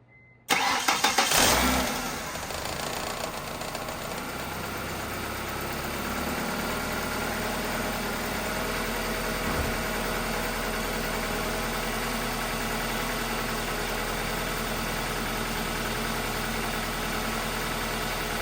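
A car engine cranks and catches, revving briefly, then settles into a steady, rumbling idle that runs on close by without any talking.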